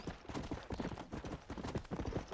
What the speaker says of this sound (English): Warhorse.